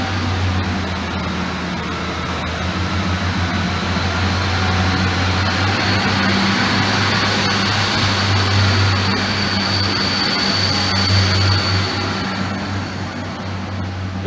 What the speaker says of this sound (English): The next train to arrive at platform 2 is the 11:15 Northern service to Lincoln Central.